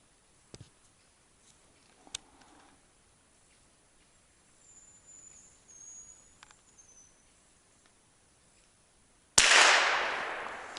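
A single loud gunshot from a hunting rifle cracks out near the end after quiet forest ambience with faint scattered rustles, followed by a fading echo; the shot misses.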